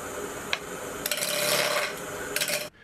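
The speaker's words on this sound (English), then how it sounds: "I have my big fat roughing gouge, and start cut." A big roughing gouge cuts wood spinning on a lathe, giving a steady, loud scraping rasp that builds and holds for about two seconds after a few short contact ticks, then stops suddenly.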